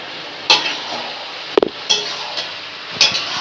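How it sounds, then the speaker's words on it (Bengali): Spices being stirred into mutton curry in a pan, a few scattered scrapes and knocks of a utensil against the pan over a low background sizzle. "সব মশলাগুলো আমরা দিয়ে নাড়াচাড়া করবো।"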